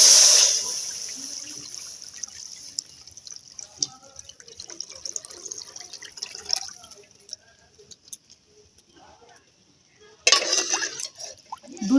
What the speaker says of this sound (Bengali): দুধটা আমি ঢেলে দেব।